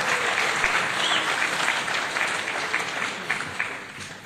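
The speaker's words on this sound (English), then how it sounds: "Big round of applause." Audience applause at a 2012 economic summit: a dense, sustained clapping from a crowd, loud at first and tapering slightly toward the end, with no voices over it.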